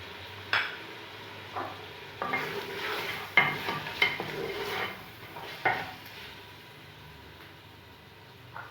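Beef frying in a karahi with salt, red chili, turmeric and dried coriander being stirred in: steady low sizzle under repeated scraping, clanking stirs that fade toward the end, close, with no talk.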